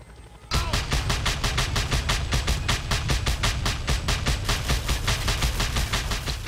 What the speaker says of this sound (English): Use the flak cannon.